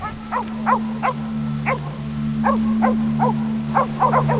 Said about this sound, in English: The barking is her alert to indicate that she is in odor.